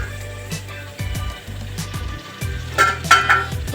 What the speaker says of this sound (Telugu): ఉల్లిపాయలు వేగిపోయినాయండి.